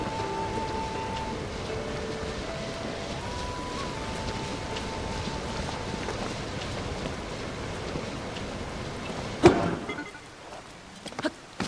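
Steady rain hisses softly across a scene in Zelda: Tears of the Kingdom, a faint even patter with a few muted game tones early on and a sharp thud near the end.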